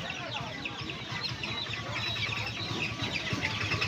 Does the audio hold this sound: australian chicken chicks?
yes